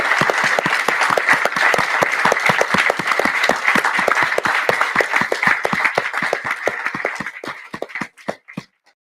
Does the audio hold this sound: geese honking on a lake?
no